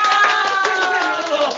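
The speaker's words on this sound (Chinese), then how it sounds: "能不能摁一个掌声" Requested applause sound effect played during a livestream call, a brief burst of dense clapping and crowd cheer lasting under two seconds, fairly loud and steady.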